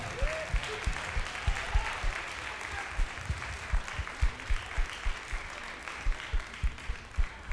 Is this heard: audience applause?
yes